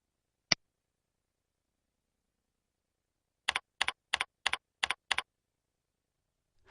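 Keys on a computer keyboard are pressed to enter a password: one isolated tap, then six crisp, evenly spaced clicks in a quick row, then quiet, with no talking.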